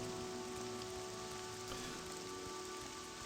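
Rain in the video game Morrowind makes a steady, dense hiss of falling water under a low ambient hum, continuous and fairly soft, with no talking.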